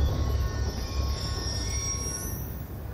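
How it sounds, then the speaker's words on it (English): A train passes in the video game Call of Duty Black Ops II, heavy rolling rumble with metallic wheel squeal whining high and rising toward the end, close and continuous with no voices. "Ain't getting anything else with that train in the way."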